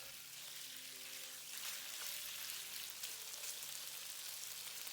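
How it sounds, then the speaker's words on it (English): Beef pieces sizzle and crackle steadily in hot oil in a wok for a Mongolian beef stir-fry, a dense continuous frying hiss with no talking. "drop in half of the meat. Roll it in the oil to separate the individual pieces."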